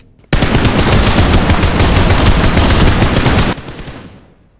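An M416 rifle and an M1014 shotgun fire in PUBG Mobile on the Livik map: a single loud, rapid burst of automatic gunfire lasts about three seconds, then trails off into fading echoes.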